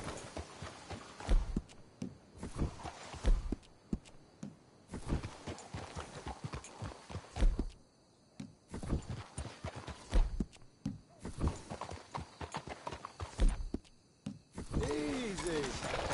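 Horses walk in a PS4 video game, their hooves clip-clopping in uneven clusters with brief pauses. The steps are close and moderately loud, and people talk over them.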